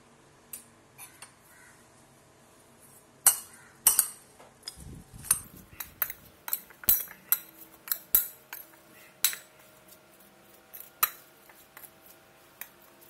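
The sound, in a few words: mixing cut raw banana with chili powder and salt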